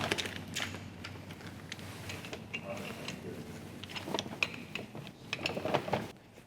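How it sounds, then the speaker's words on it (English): Filter bag being clamped into a Krantz HEPA filter device, a series of close mechanical clicks, rattles and metallic knocks scattered irregularly over soft background noise, growing busier toward the end. "we need to clamp the bag into this device"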